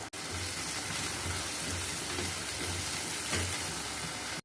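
Beaten eggs sizzle and fry in a pan with noodles for chow mein, a steady loud hissing sizzle close by with faint rhythmic low thumps.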